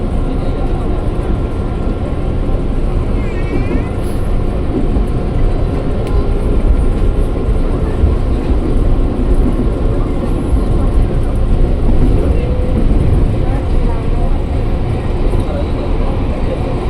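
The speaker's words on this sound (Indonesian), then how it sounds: "Kita berangkat dari jalur 2 Stasiun Daru" KRL commuter train pulling away from track 2 at the small Daru station on the Tanah Abang–Rangkasbitung line, heard from inside as a steady, loud rumbling drone with rail noise and no clear break.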